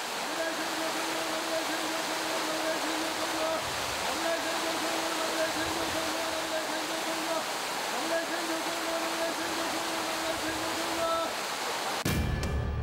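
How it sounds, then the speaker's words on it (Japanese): Water pours in a continuous, loud, even roar from a waterfall where a man stands under the falling water chanting sutras. A low, droning voice runs faintly beneath the rushing water throughout. "夏場でも滝の中に3分入っているのがやっとという状況下で、檜山はお経を読みながら最低でも10分は滝に打たれるのだという"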